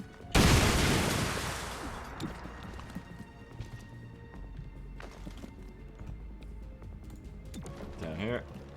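A frag grenade goes off in XCOM: Chimera Squad with a loud, sharp blast that rolls off into a long decaying rumble, while voices talk quietly over the fading aftermath.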